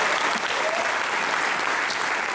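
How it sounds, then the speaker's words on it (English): Applause from a conclave audience, a brief dense burst of many hands clapping at once, loud and close, sustained evenly without speech. "Big round of applause."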